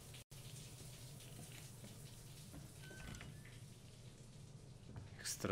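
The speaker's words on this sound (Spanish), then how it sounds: "esto explica dónde está saliendo también todo el agua" Steady, faint rushing of flowing water fills a Resident Evil 2 scene, a continuous low splashing hiss with no breaks, a small click near the start and a brief brighter splash at the end.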